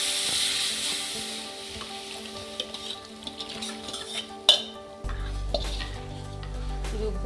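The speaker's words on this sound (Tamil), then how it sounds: "ஜீரகம், பெருங்காயம், 2 வரமிளகா போட்டு நம்ம தாளிக்க வேண்டியதுதான்" Cumin, asafoetida and two dried red chillies sizzle in hot oil as a tempering for milagu rasam. A steady, close frying hiss carries a few stirring clinks, and a low rumble joins near the end.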